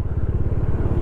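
A motorcycle on a road trip toward Mumbai runs close and loud, its engine a steady low throbbing rumble with rapid even pulses throughout.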